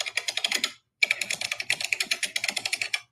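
Rapid typing on a computer keyboard, close and crisp, with quick clattering keystrokes in two bursts separated by a short pause.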